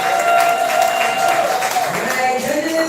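Audience applause at the Southern Fried Poetry Slam, a steady dense wash of clapping that holds loud throughout, with an announcer's voice running over it.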